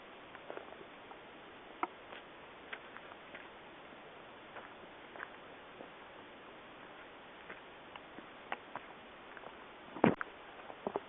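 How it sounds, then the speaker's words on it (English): Light rain pattering beside a small lake on a forest trail, sparse soft ticks and drips over a quiet hiss, faint and irregular with a slightly louder drop near the end. "The rain is slightly letting up, not much."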